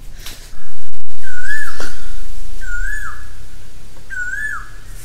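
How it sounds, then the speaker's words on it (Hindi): An Asian koel calls outside a house: three clear, loud rising whistled notes spaced about 1.5 seconds apart, with no talk over them. "बाहर इतनी प्यारी कोयल की आवाज आ रही थी"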